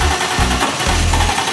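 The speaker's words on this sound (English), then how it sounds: "All right, Joey, give me a crank. Make it start." BMW E30 engine cranking, a loud, close, rhythmic churning of the starter turning the motor over in uneven pulses without catching, no voices.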